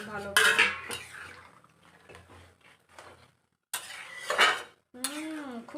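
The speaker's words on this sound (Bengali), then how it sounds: "এটাকে ঢাকা সরিয়ে একবার নেড়ে দিতে হবে ভালো করে।" A pot lid lifted off with metallic clanks, then a spoon scraping and stirring vegetables for Bengali sukto, close and clattery, with a brief voice near the end.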